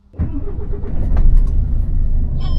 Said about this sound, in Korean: 엔진 소리가 아주 우렁찬데?